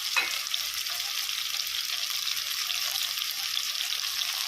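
Vegetables coated in chilli powder, salt and turmeric sizzle steadily in a pan of oil for sambar, a close, even frying hiss with no talking.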